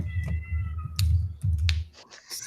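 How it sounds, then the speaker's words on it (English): A cat meows up close several times in quick succession, short nasal calls with light clicks and taps between them. "There's that cat."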